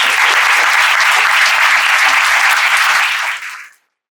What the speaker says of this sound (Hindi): क्या करेंगे? ताली से स्वागत करके